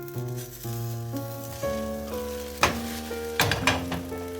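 A potato and cheese galette fries gently in a covered pan over low heat, its soft sizzle sitting beneath prominent background music with a few brighter crackles.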